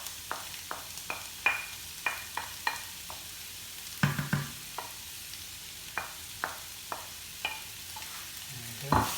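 Onion and garlic cooking in a pan for a Cajun spice chicken wrap; a quiet, low sizzle broken by regular spatula taps and scrapes against the pan, close and rhythmic, with no one talking.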